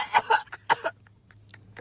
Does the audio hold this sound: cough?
yes